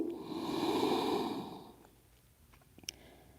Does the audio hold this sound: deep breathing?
yes